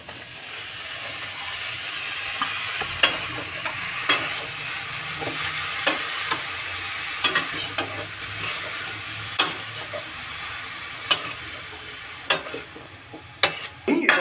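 Spinach and chili fry in a pan, a continuous sizzle broken by frequent sharp scrapes and knocks of a spatula stirring, close and fairly loud, without speech.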